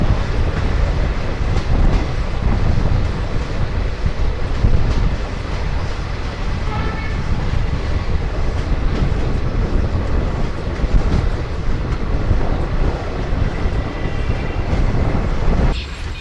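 A passenger train rumbles steadily with broad, continuous noise and faint rail clatter as it pulls into Kishangarh railway station in India.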